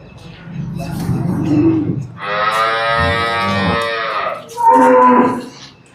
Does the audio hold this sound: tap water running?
no